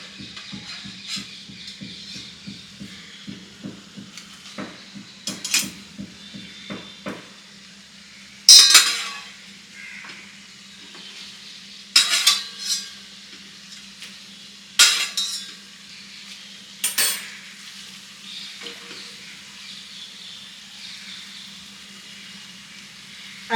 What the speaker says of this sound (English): And now I'll add the pasta in.